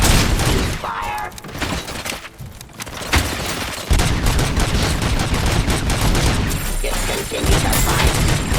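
Loud gunfire in the video game RoboCop: Rogue City, bursts of rapid shots mixed with crashes, booms and shattering, with a brief lull partway through and voices talking over the combat.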